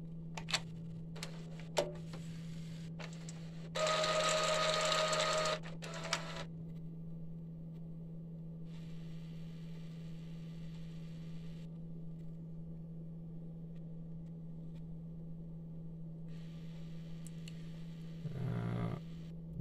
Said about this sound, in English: This printer is a bit more slower than the A3 printers regarding the starting or the initialization.